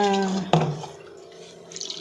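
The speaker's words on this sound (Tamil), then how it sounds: "கொஞ்சம் கொஞ்சமாக தண்ணி ஊற்றி" A short trickle of water poured little by little into idiyappam rice flour dough, running and splashing, briefly interrupted by a clunk, then a softer flow continuing.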